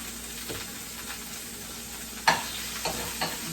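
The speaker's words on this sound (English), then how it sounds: "To this I'll add some onion, some diced onion." Diced onion is stirred into stewing beef in a pot, making a soft, continuous simmering sizzle with a few sharp spoon scrapes and knocks in the last second or so, with no voices.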